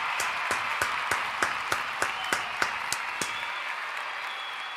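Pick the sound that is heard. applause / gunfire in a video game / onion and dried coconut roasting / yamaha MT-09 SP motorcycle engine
applause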